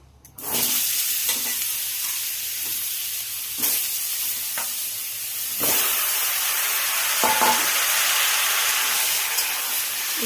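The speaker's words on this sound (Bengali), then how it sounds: "এই তেলের উপরেই সবজিগুলো দিয়ে দেব।" Vegetables drop into hot oil left in the pan after frying fish and set off a loud, close sizzle that carries on steadily, broken by occasional scraping knocks of stirring, with no talk.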